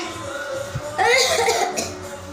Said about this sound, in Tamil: என் தம்பிக்கு வேற இருமல் வருது.